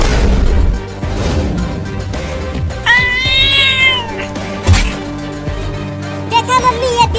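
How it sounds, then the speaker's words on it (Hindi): Cartoon cat yowling in a drawn-out, rising and falling meow over a busy background of music and effects, followed by a shorter meow near the end. "ये बिल्ली कितनी ढीठ है, इतना काटने के बाद भी कूद रही है काटने के लिए"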